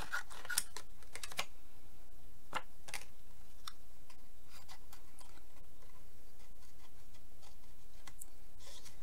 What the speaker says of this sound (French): Alors déjà je vais couper l'excédent.